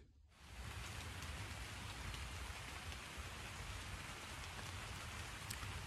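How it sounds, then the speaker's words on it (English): Rain beginning to fall on the Appalachian Trail: after a brief quiet moment, a steady, dense patter of drops on surfaces sets in and continues evenly and close by, with no voices. "Just started raining."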